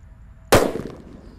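A single black "colorful sweater" firecracker goes off with one sharp, loud bang up close, followed by a brief crackling decay into quiet.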